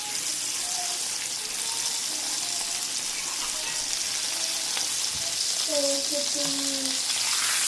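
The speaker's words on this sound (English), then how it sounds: "I'm going to toss a little bit of butter in there, a little bit of dried thyme, some minced garlic." Butter sizzles in a hot pan with dried thyme and minced garlic, a steady close crackle throughout, with a faint whistle-like tone rising briefly near the end; no one speaks.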